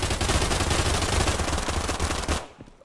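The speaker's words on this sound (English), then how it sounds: "I'm getting shot on the right side." Dense, continuous rapid gunfire in an online battle video game fills the clip loudly and close, then cuts off abruptly near the end.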